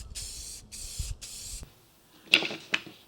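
Three short bursts of aerosol clear coat spray hiss in quick succession on a pedalboard riser, followed by a couple of faint clicks and taps.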